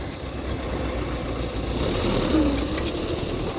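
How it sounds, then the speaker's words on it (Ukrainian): A tractor engine runs steadily with a low, even rumble, with no clear voices. "А це ось трактор. Дир-дир-дир."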